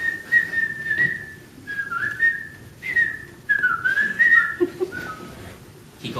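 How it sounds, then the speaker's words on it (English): A storyteller at a youth storytelling event whistles a wavering tune alone, in short melodic phrases with brief pauses between them, clear and close. "Whistling had worked once,"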